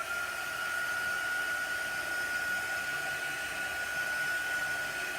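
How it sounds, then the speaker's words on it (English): A cheap discount-store heat gun blows steadily to dry chalk paste on a picture frame, a continuous, loud airy whoosh with a fixed whine running unchanged throughout, no voices. "This is my heat gun."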